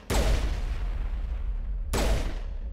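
Two loud, close gunshot blasts from a video game weapon firing on a transmitter in Mass Effect 1, each a sharp crack followed by a long rumbling decay, the second arriving about two seconds after the first.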